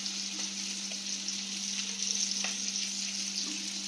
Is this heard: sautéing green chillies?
yes